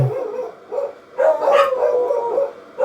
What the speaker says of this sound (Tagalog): maingay yung aso, ano ba yan?